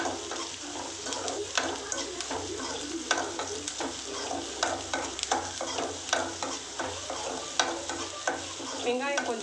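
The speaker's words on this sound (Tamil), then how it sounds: "வெங்காயம் கொஞ்சம் நல்லா வதங்கணும்" Onions sautéing in oil for a brinjal thokku, a continuous close sizzle with frequent clicking spatula strokes against the pan throughout, no voices.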